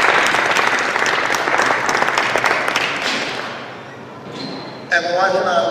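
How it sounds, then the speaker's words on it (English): An audience at an interview event breaks into sustained, full applause that gradually thins out, and a voice begins speaking as the clapping dies down. "So give yourselves a round of applause."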